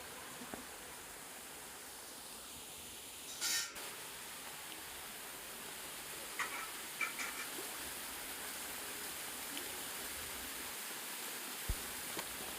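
Steady broadband rushing of a waterfall at Gurrala Thota near Araku, a constant soft hiss of falling water with a brief clatter and small knocks.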